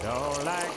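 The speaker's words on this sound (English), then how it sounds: "what we're gonna do is add a little bit more water" Water pours into a pot of thick simmering gumbo in a brief, steady splashing gush, close and moderately loud, with no voices.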